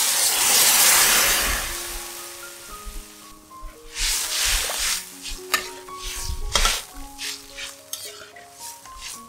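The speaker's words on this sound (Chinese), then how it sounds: "搅拌均匀。" Soy sauce, oyster sauce and about a litre of water stirred together in a pot for a vegetarian oyster-vermicelli dish, a steady bubbling sizzle with scraping stirs and utensil clinks under a faint musical backdrop, fairly close.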